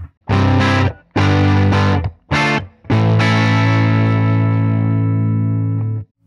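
An Orange Crush 20 amplifier's clean channel, turned up to volume 4, starts to break up as an electric guitar plays three short loud chords and then one long chord ringing out with slight grit.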